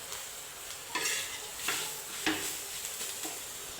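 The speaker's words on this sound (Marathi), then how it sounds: "आता यात ते वाटण टाकून देऊ. आता हे छान प्रकारे मिक्स करून घेऊ तेलामध्ये." Groundnut chutney paste being stirred in hot oil, with steady sizzling and frying and a few sharp scrapes of a spoon against the pan at irregular intervals, close and moderately loud with no talk.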